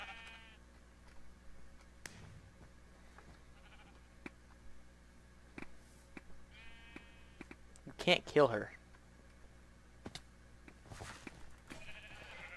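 Sheep bleats from a Minecraft Mineplex arcade game recur in short bursts, with a louder cluster near the middle, over a background of clicks and game noise while a player talks.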